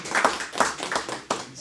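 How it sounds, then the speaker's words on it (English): A few people clap at a school board meeting for a student called up front, sparse uneven claps with gaps, short and close. "give him a round of applause"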